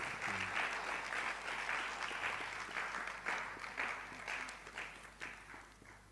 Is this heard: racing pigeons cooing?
no